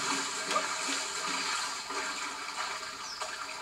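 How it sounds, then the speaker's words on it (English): Super Mario Odyssey on Nintendo Switch, with Mario ground pounding into water: a splashy, rushing gush of water that stays fairly steady and quiet through the short stretch, with no voices. "ground pound into the water."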